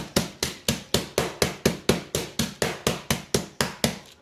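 Rapid, evenly spaced thumping of a flat tool pounding chicken cutlets on a board, about fifteen sharp strikes in a steady rhythm, close and loud.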